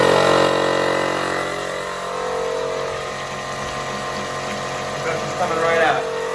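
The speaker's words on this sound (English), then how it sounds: "now I'm going to take my pump and hook it up to the top right there." A pump hooked to the top of a boiler expansion tank on a Burnham ES26 gas boiler runs with a steady mechanical hum and whine, its level easing slightly partway through, with a faint watery rush near the end.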